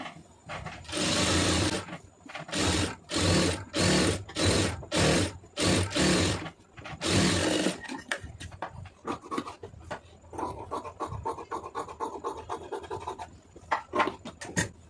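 A sewing machine stitches a hem in a run of regular, close, loud whirring bursts, then switches to a quicker, rattling, scratchy patter of shorter stitches.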